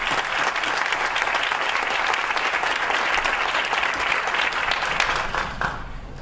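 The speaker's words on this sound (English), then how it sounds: "So I want to give you a big round of applause." Dense, sustained audience applause fills a hall during a speech, a continuous roar of many hands clapping at an even loudness that begins to thin out near the end.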